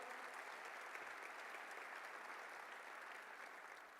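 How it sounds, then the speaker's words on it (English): A round of applause from an audience at an evening awards celebration, broad and even clapping that holds steady and then eases slightly, heard faint and distant. "Let's give the Westchester County Association a round of applause."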